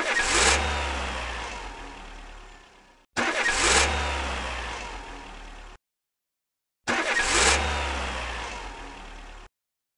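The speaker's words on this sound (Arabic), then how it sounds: "يلا شغل السيارة." An old car's engine starts and revs in three separate loud bursts, each surging up and then fading before a brief gap of silence.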